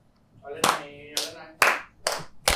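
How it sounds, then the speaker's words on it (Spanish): Sharp hand claps made to synchronise a podcast recording, about five loud, distinct claps spaced roughly half a second apart, close to the microphone, with a voice speaking between the first ones. "vamos a aplaudir"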